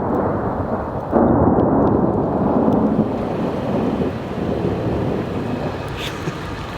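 Thunder rumbles loud and sustained during a mountain storm on Black Bear Pass, a deep rolling roar swelling after a second and slowly fading, with rain and wind buffeting the microphone.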